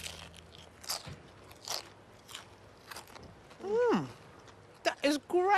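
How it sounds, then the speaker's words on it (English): Crisp crunching bites into battered fried fish, Lebanese-style fish and chips served with tabbouleh, several close crackly bites with chewing and brief voiced reactions between them. "Crunchy, beautiful fish."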